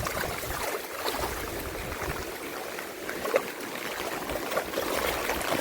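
Floodwater flows out of a farm field after heavy rain, a continuous rushing and trickling that runs steadily throughout, close by.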